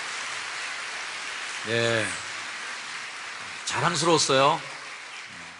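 A congregation claps together during a Korean church service, a dense, steady patter of applause filling the hall throughout while a voice speaks over it.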